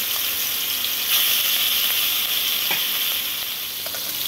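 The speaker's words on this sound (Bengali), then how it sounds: "তেলের মধ্যে দিয়ে দিলাম মাছের মাথাগুলো নুন আর হলুদ দিয়ে ভালো করে মেখে নিয়েছি। এগুলোকে আমি ভেজে নেব।" Hilsa fish heads rubbed with salt and turmeric fry in hot oil, giving a steady, close, loud sizzle with dense crackling throughout and a few sharper pops, no voices.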